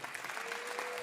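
A live audience claps for a volunteer stage crew, a brief, steady burst of dense applause heard close and even throughout.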